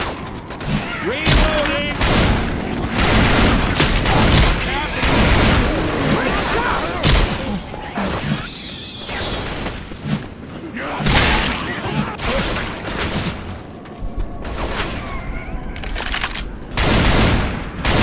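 Sustained gunfire in the Left 4 Dead 2 video game as players shoot at a barricade, with dense overlapping shots and booms in a loud, continuous barrage throughout, and game voices mixed underneath.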